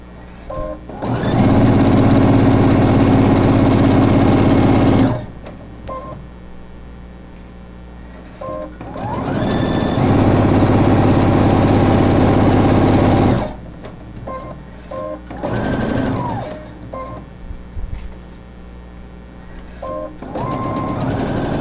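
Electric sewing machine stitching cloth napkins, running in two long loud bursts of steady whirring motor and needle chatter, then shorter stop-start runs, close up with no talking.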